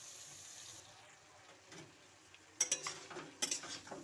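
Fried shrimp is stirred briefly in a pan. It starts very quiet, then a few crisp metal clinks and scrapes of a spatula come near the end.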